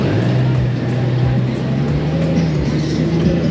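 Many motorcycles idle and rumble together at a nearby gathering, a steady low engine drone with occasional revs and passing bursts, no talk over it.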